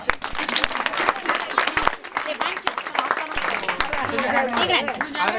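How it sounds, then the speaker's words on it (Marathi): A crowd claps hands at a wedding ceremony, scattered sharp claps mixed with loud overlapping voices and chatter nearby. "टाळी वाजवा."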